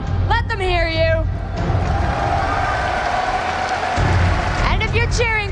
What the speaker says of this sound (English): If you're cheering for Counter Logic Gaming, let them hear you.